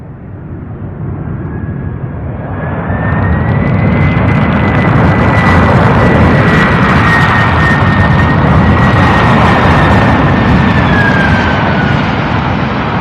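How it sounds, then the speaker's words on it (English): A UPS Boeing 767 jet comes in to land on runway 35 right at Louisville's UPS Worldport, its engine roar swelling from moderate to loud and holding steady, with a whining engine tone running across the approach. "flight 2953 out of Sacramento coming in for landing now, 767"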